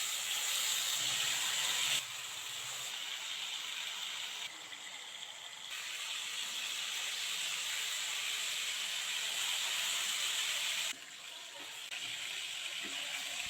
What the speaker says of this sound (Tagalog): Bali ipiprito ko nga itong mga liempo